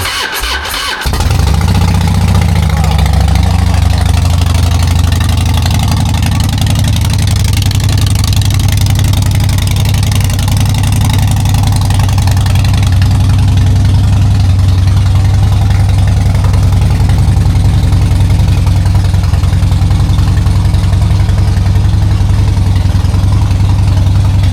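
A Junak 500 motorcycle engine cranks and fires, then settles into a loud, steady, low-pitched idle that runs on close by without voices.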